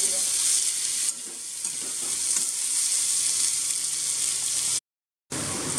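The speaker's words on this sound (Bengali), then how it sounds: "পেঁয়াজটাকে এমনভাবে ভেজে এখানে মাছটা হবে যাতে করে বেরেস্তার মতো হয়ে যায়" Sliced onions fry in oil toward a golden birista-style crisp, a loud continuous sizzle with stirring rustles, a brief dip near the start and a short silent gap near the end.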